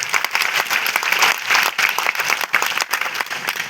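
Studio-style audience applause at a cyber-security talk, dense rapid clapping from a crowd filling the room, loud and steady throughout with no voices over it.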